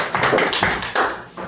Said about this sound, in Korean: 첼리스트에게 또 박수 한번 주시죠